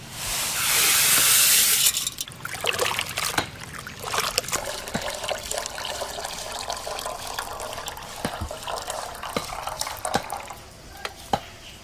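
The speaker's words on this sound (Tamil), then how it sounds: "பருப்பு ஊற வைக்க தண்ணி" Water is poured into a vessel to soak lentils, a loud gushing splash at first that settles into a softer trickle with scattered drips and clinks in a village kitchen.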